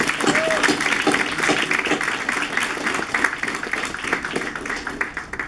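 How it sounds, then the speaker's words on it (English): Conference audience giving a round of applause at a meeting, a steady dense wave of clapping from a sizable crowd, loud and sustained, with some crowd murmur mixed in. "Maybe we can give them a little round of applause."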